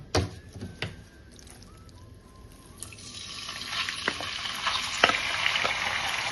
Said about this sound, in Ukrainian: На розігріту сковорідку викладаємо м'ясо, нарізане дуже дрібними шматочками.